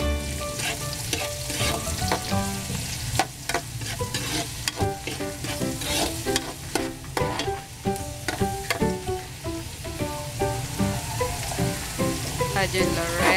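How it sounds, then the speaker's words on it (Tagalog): Garlic and onion sautéing in a pan, a loud continuous sizzle and crackle with stirring clatter throughout, close up and with no talking. "Gigisa lang natin ulit ang bawang, sibuyas"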